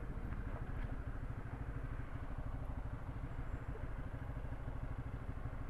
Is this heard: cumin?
no